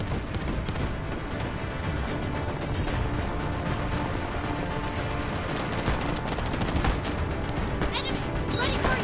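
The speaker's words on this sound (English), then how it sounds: "Artillery barrage incoming." Artillery barrage in the shooter game Delta Force Mobile, a dense continuous roar of blasts and gunfire crackle throughout, loud and chaotic, with game voices mixed in.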